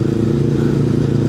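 A brand-new motorcycle being ridden on a road past Mandala Krida, its engine giving a steady, loud, continuous drone close to the rider with no talk over it.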